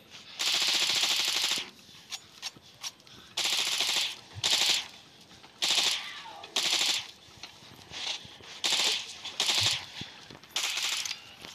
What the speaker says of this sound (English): This SMG has nice range